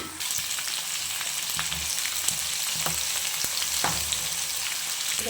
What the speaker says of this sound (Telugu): ఇక్కడైతే చిక్కుడుకాయ మనకి ఆయిల్లో డీప్ ఫ్రై అవుతుంది